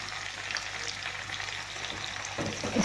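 Tomato chutney hits a hot pan already holding sautéed ginger-garlic paste for chicken masala, giving a steady close sizzle and frying hiss with light stirring, swelling a little louder near the end.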